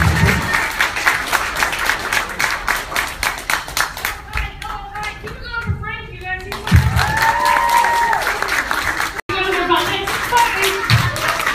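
Audience applause and clapping for a comedian at a Broadway comedy show, dense and sustained throughout with whistles and cheers rising midway, loud and close in a live room.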